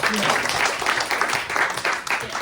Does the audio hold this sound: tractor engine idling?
no